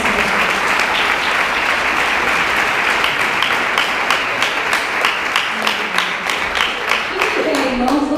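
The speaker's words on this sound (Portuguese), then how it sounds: "vamos receber a irmã Juliana novamente com palmas bem alegres" A church youth congress congregation claps steadily and loudly throughout, a dense, sustained wash of applause with a few voices mixed in.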